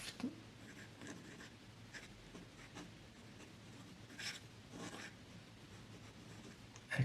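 A Pilot fountain pen nib scratches faintly across high-quality paper in short strokes and pauses, quiet and close, with no speech.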